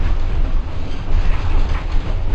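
Vintage steam train carriage rolling on rails, a loud, close, continuous rumble with rattling and wheel noise and no speech over it.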